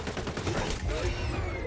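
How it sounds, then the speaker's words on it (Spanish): Triple-shot bursts in the online shooter XDefiant, rapid cracking shots in quick clusters over loud game ambience and whizzing effects, close and dense. "Me he fallado ese triple, por favor. Ese triple disparo."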